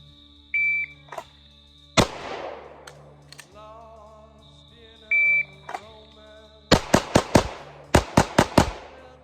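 Pistol shots ring out during a two-target drill: a shot timer beeps, then a few single shots are followed by rapid strings of four or so sharp, loud reports, close to the shooter, with no talking.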